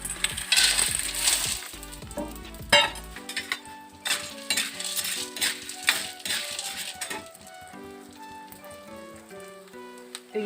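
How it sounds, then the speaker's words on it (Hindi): Gond (edible gum) roasts in desi ghee in a kadhai, with clinks and scrapes of a metal spoon against the pan over a faint sizzle. The clattering is loud at first, then becomes sparser and rings more. "तो ये देखिए ये गोंद हमारा भून चुका है, घी में ही, देसी घी में भुने हुए हैं।"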